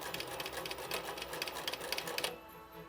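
A sewing machine back stitching an embroidered Christmas stocking, its needle running in a steady rapid patter close by for about two seconds before stopping abruptly.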